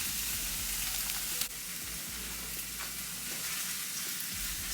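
Onion and garlic sauté in a pan for a family chicken burger meal, giving a steady close sizzle with soft crackles and a brief stir-like knock partway through; no one speaks.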